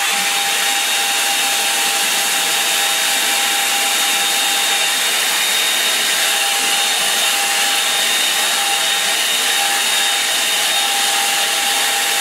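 Hair dryer drying paint on a painting, blowing with a continuous loud, steady whoosh and whine from start to finish, close by with no other sounds.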